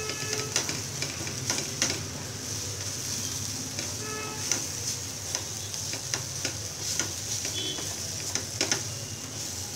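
Sweet potato halwa sizzles and fries in a pan while being stirred, giving a steady crackle with intermittent scraping clicks throughout, close and moderately loud, with no talking.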